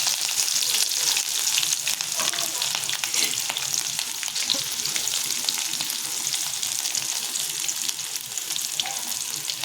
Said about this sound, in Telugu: నూనె కాగిందండి. ఇప్పుడు ఫస్ట్ ఎండుమిర్చి, జీలకర్ర వేసిన తర్వాత పచ్చిమిర్చి